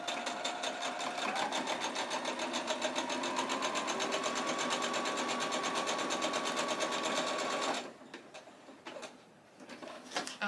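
A sewing machine runs at steady speed for about eight seconds, a rapid close mechanical whir and needle patter stitching a straight seam across lining fabric, then stops, leaving faint handling noises.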